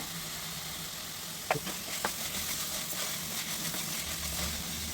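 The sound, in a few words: vegetables and potatoes frying in oil on high flame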